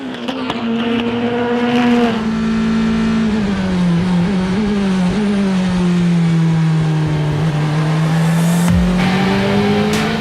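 LMP3 and LMP2 prototype race cars circle a track, a loud sustained engine drone with gear-change shifts and shifting pitch, without a break.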